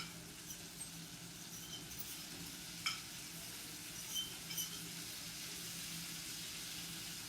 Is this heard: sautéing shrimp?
yes